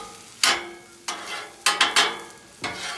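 A small yellow onion cooking on a grill, heard as a low sizzle broken by several sharp scraping strokes of a spatula, about five or six separate swipes, close by and with no talking.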